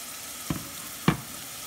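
Onions, ginger, carrot and eggplant fry in coconut oil in a pan, with a steady soft sizzle and two brief stirring clatters close by, alone with no talking.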